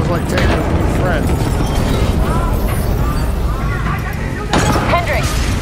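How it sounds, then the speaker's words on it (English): Booming game explosions and crackling bursts fill a dense, loud mix, with a short lull before another burst near the end; multiple explosions across a facility in Call of Duty: Black Ops III, mission Hypocenter. "we have multiple explosions across the facility"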